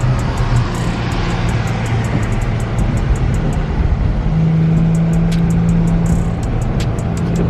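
A car engine revs and drones steadily up close during manual downshifts, its pitch rising briefly in a sustained blip partway through, with sharp clicking ticks in the background and no talk.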